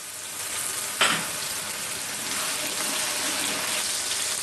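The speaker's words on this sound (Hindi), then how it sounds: "हमने 1 मिनट तक भूना है।" Onions and ginger garlic paste fry in a pan for a Kashmiri hareesa, giving a steady close sizzle with a brief clatter of stirring near the start and no talking.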